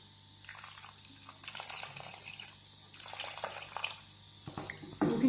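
Jaggery being stirred and dissolved in a little water for making malpua, with soft splashing, dripping and liquid swirling in uneven bursts, close and fairly quiet, no talking.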